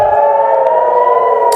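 Air raid sirens wail across Haifa after an Iranian ballistic missile launch, a loud, steady, unbroken tone that holds for the whole stretch with no voices.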